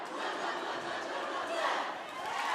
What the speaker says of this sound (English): you hear the crowd is back into this